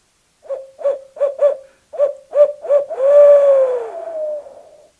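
Series of seven short, evenly spaced hoots blown on a hoot flute imitating an owl, followed by a longer drawn-out wavering call that fades; loud and close, no voices.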